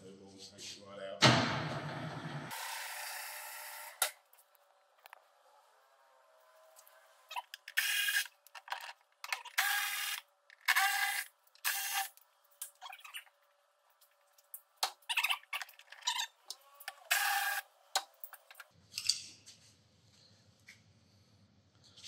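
Bolts being undone on a Skoda 1.4 TDI engine during a timing belt change, a string of short ratchet clicks and metallic taps in bursts, fairly close, with brief rustling between.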